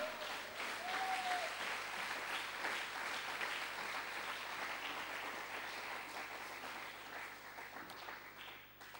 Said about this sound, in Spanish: Denle un fuerte aplauso al Rey.